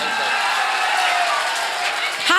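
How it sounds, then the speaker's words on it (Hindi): An audience at an all-India mushaira in Meerut claps in a steady, dense wash of applause that carries on without a break, close and fairly loud. "अगर अच्छा लगा हो तो तालियां जोरदार होनी चाहिए।"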